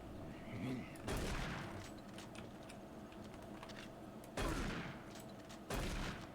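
A few heavy shots from a Doom 3 gun fired at point-blank range, spaced several seconds apart, each a loud burst over a murky game soundscape.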